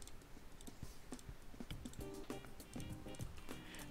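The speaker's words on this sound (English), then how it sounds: "I'm typing to you guys right now." Faint, irregular clicks and taps of fingers on a computer keyboard sound through a quiet room, with short runs of keystrokes separated by brief pauses.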